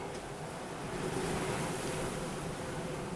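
Strong desert wind storm gusting steadily and loudly, a dense broadband roar with no pause, rising slightly mid-way and never letting up.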